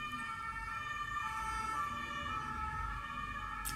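Emergency vehicle siren wailing outside, a steady rising and falling tone heard from a distance through the room for several seconds, with no talk.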